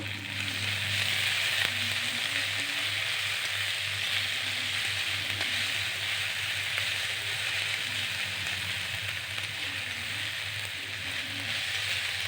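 Chopped onion, garlic and ginger frying in a pan, a constant close crackling sizzle that stays even throughout with faint stirring underneath.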